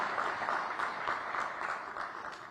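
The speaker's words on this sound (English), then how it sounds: "a round of applause for Minister Gadkari and the government" An audience applauds at an infrastructure awards ceremony in New Delhi, a steady, moderately distant wash of many hands clapping throughout.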